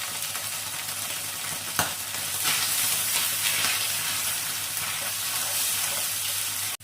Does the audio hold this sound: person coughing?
no